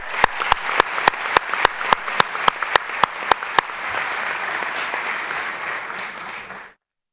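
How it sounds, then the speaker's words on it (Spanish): Audience applause at the opening of the 12th USO confederal congress, loud sharp claps beating in a regular rhythm over a dense clapping bed for about three and a half seconds, then the steady wash continues and fades out abruptly. "un fuerte aplauso para él"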